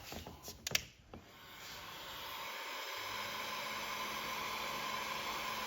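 A few handling clicks, then a steady rushing hiss of a heat gun blowing hot air during a kayak motor install, continuous and fairly close.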